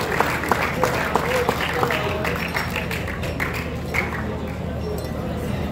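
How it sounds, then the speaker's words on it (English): Audience clapping at a youth football tournament award ceremony, steady scattered applause with distinct individual claps and light clinks, crowd murmur and a voice over a PA beneath. "Give Selva a round of applause, please."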